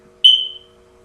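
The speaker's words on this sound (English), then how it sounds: "It keeps beeping. I think my husband has to change the battery. Sorry about that. The smoke detector." A single short high-pitched electronic low-battery chirp from a smoke detector, sharp onset then fading, in an otherwise quiet room with faint background hum.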